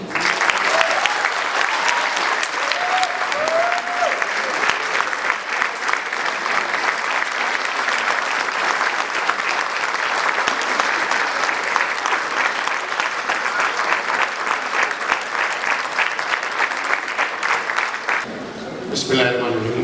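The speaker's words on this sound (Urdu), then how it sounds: "بھرپور تالیوں میں استقبال کریں" Sustained applause from a large audience welcoming a guest at a Pakistani Independence Day literary event in Houston, dense and steady for nearly twenty seconds with scattered cheers and a few voices mixed in, then cutting off abruptly at the end.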